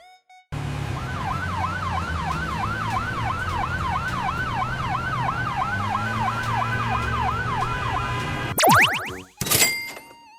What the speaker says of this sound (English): This is an ambulance. It takes sick and hurt people to the hospital.